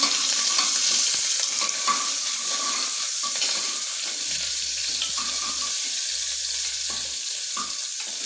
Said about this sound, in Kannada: ಸ್ವಲ್ಪ ಸ್ಲೈಸ್ ಆಗಿದೆ ಈರುಳ್ಳಿ ಹಾಕೊಳ್ಳೋಣ. ಸ್ವಲ್ಪ ಫ್ರೈ ಮಾಡ್ಕೊಳ್ಳೋಣ.